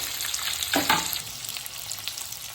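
Onion drops into hot oil with green chillies and curry leaves, giving a loud burst of frying that settles into a continuous close sizzle with light stirring.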